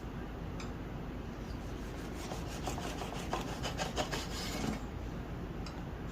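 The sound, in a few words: knife slicing homemade sandwich bread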